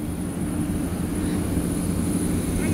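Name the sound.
airplane engine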